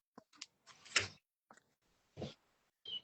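A series of scrapes, rattles and knocks, close and fairly quiet, as a window is slid and pushed shut in short bursts.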